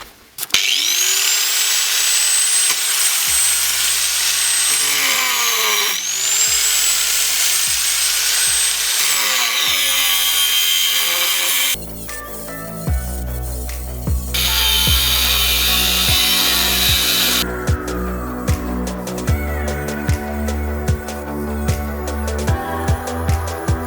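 An angle grinder with cut-off discs cuts metal stock such as 20 mm square tube and rebar, producing loud, sustained whining and screeching with repeated pitch drops as the disc bites and the motor recovers between cuts.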